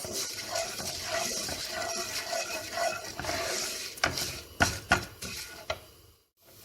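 Vermicelli roasting in olive oil for rice pilaf gives a soft, faint sizzle under repeated stirring and scraping of a utensil against the pot, with a few sharper clanks near the end.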